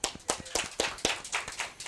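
Audience clapping at a high school athletic college commitment ceremony, a sparse, uneven patter of hands sounding fairly close, with no talking over it.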